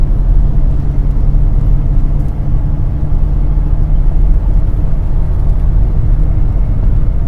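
A car drives along a mountain road in the Carpathians, its loud, steady engine and road rumble filling the whole stretch with a dense, unbroken low drone. No voices.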